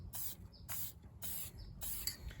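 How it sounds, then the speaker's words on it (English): Krylon Workable Fixatif aerosol sprayed in four short, evenly spaced bursts, each a close, bright hiss over a low rumbling background. "you can give it a little bit more of a spray"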